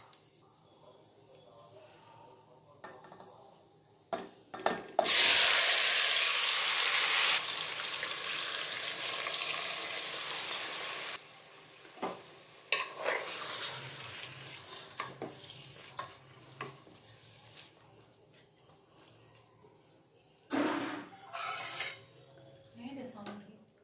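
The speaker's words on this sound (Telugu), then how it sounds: "ఇప్పుడు మనం కలిపి పెట్టుకున్న చికెన్ ఇందులో వేసేసుకుందాం" Marinated chicken drops into a hot pan of cinnamon, cloves and cardamom for chicken dum biryani, setting off a sudden loud sizzle that fades into steady frying with occasional stirring and utensil clatter.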